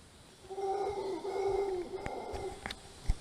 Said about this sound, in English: the howler monkeys just started up again